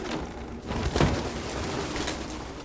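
Soft pigeon cooing in the video game Detroit: Become Human over a steady murky background hum, one fuller coo swelling near the middle before fading back into low ambience.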